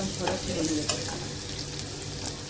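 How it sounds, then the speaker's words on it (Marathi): Three dried red chilies stir-fried in a pan for dal, a steady sizzle with faint scraping of the spoon, close and continuous with no talking. "मिरची घेतलेली आहे सुकलेली, ती घेतलेली आहे. त्याला फिरून घेते मिरचीला."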